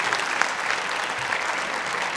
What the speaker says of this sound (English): Let's give a big round of applause for those moments right there.